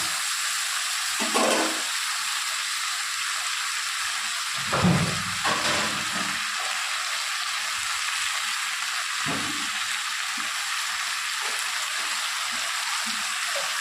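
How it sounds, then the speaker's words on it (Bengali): Spice masala being sautéed in a pan for a Bengali dish, a soft continuous sizzle with a few brief stirring bumps, heard alone without speech. "এবার এটাকে ভালো করে কষিয়ে নিয়ে আমি আপনাদের সামনে ফিরে আসছি"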